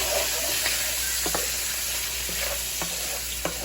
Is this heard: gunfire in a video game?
no